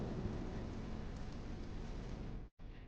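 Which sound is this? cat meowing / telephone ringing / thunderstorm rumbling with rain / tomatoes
thunderstorm rumbling with rain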